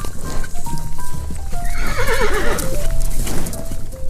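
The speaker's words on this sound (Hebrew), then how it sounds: "Horse," A horse neighs in a loud, close whinny with a quavering high-pitched middle, set among background noise and hoof-like clatter.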